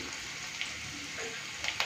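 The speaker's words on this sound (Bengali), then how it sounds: "এই যে দেখুন পেঁয়াজটা ভাজা ভাজা হয়ে গেছে" Onions frying in mustard oil in a pan, a faint, steady sizzle with a few small crackles near the end.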